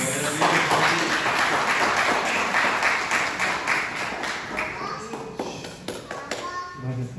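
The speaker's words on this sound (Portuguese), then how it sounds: "Palmas que exalta Jesus." A church congregation claps hands in praise during a Bible study gathering, rhythmic clapping that starts full and thins out toward the end, with voices and some children audible among it.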